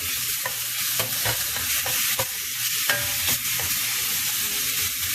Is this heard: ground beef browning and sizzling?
yes